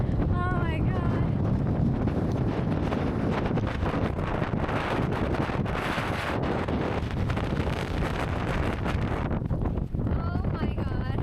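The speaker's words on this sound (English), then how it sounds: "The wind has been blowing so much." Strong wind buffets the microphone on a cold, windy hill hike near Alport Castles, a loud continuous roar with gusty rumbling, while a person's voice is briefly heard at the start and end.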